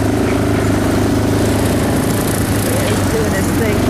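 A tractor pulling a brush hog mows nearby, its steady engine drone and rotary cutter hum running continuously and fairly loud through the whole stretch, with no gaps.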